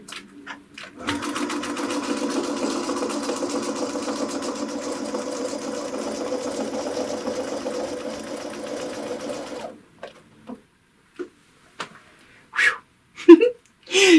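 A sewing machine stitches a quilt along a ruler, a steady mechanical whir running alone for about nine seconds before stopping, followed by a few short clicks and handling noises.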